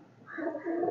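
A pet pigeon kept by a breeder coos softly and steadily, a low rolling call held close by with no talk over it.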